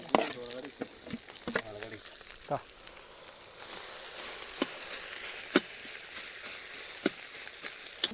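Pepper, cumin and onion sizzle and crackle steadily in a hot pan for a gobi manchurian tomato gravy, with a voice talking over the first few seconds before the frying carries on alone.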